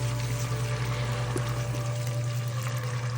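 Boiled water is poured steadily into a cooking pot, making a continuous close splashing stream over a low background hum, with no talking.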